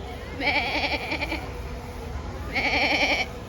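Sheep on a farm bleat twice, a wavering close cry near the start and another near the end, with a quieter murmur of background noise between them.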